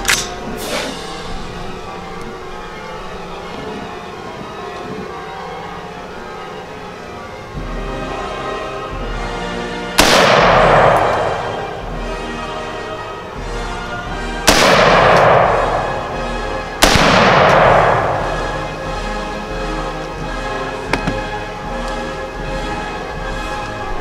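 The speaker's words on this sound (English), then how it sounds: "first attempt on the 5-hour energy bottle. We'll see how big of an explosion it makes." Several sharp explosive bangs, each with a decaying rumble, ring out at a distance outdoors as pumpkins are blown apart with an improvised 5-hour energy bottle explosive.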